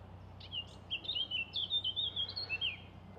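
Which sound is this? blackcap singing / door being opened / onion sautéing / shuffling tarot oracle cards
blackcap singing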